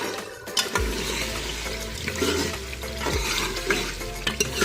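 Turnip and meat curry masala being stirred and fried in a pot over medium to high flame, a steady close sizzle with repeated scraping strokes of the spoon, no talking.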